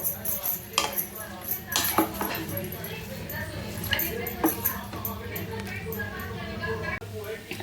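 A spoon stirs spicy amla chunda mixture in a pot, giving irregular clinks and scrapes against the metal with a few sharper knocks, under faint background voice.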